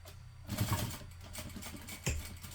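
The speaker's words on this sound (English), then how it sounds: "And now I'm just going to top stitch this one time as close to the hardware as I can get." Sewing machine top stitching close to the hardware, a quiet whirring run of rapid needle strokes with a couple of louder bursts as the stitching starts and picks up.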